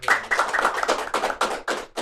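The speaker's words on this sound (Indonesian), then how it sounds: "tepuk tangan" A few pairs of hands clapping in applause at an SMK PGRI 1 Kedondong vocational school podcast session, a run of sharp, fairly close claps coming in uneven bursts, with no talk over it.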